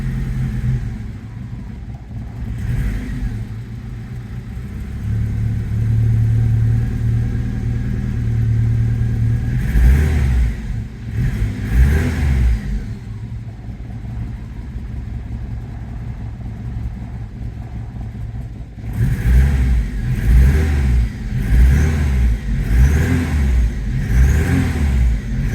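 A barn-find 1982 Saab 900 Turbo engine idles roughly, then is revved with the throttle in repeated bursts, the rises and falls growing sharper and more rhythmic toward the end, close and loud with no speech.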